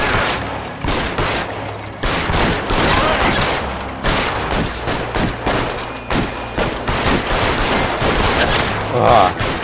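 Sustained volleys of gunshots ring out in L.A. Noire, a dense fusillade of repeated loud cracks that carries on almost without pause, with a voice briefly heard in the mix.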